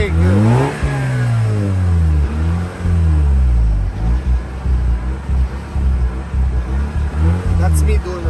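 A 2004 Mazda RX8 rotary engine revs up and down repeatedly after sitting for two years, its loud rising and falling pitch sweeping close by, with a person talking over the engine.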